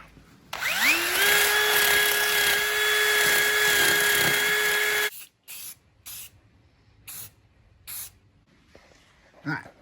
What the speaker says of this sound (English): I think I got some black spray paint right there. We're gonna, fog that down a little bit.